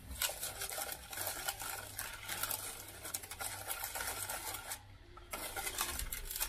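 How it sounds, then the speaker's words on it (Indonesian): Cornstarch mixture being stirred for a cheese bread pudding, a steady scraping and tapping of a utensil in a bowl, close and continuous with a brief pause near the end. "dan ada tepung maizena oke kita aduk ya kita aduk"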